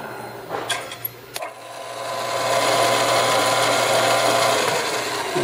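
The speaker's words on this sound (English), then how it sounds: "we're going to first fire it up to show you that the motor does operate" Jet 9x20 bench lathe motor spinning up after a few clicks of the switch, settling into a steady, close mechanical hum that holds for several seconds.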